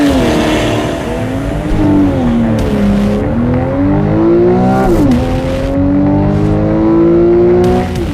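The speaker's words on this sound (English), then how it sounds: "you've got to try out the launch control, which we're going to do" A 2012 Porsche 911 (991) with PDK gearbox launching hard under launch control, its engine revving loud and close and rising through several quick upshifts, each change giving a brief dip in pitch before it climbs again.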